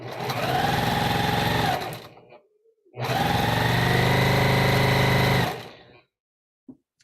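A sewing machine stitches a quilt strip in two steady, fast-running bursts separated by a short pause, loud and close, each ending as the motor winds down, with a faint click afterward.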